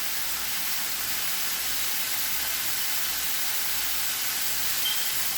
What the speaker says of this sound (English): Now we're sizzling away there.